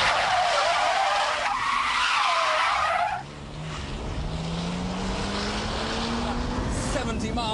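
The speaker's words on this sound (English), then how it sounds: "it's time to take on the 360 spin challenge." A rear-wheel-drive BMW Z3 spins through a full 360, tyres skidding loudly in a harsh screech for about three seconds, then the engine drones on with a rising whine as the car pulls away.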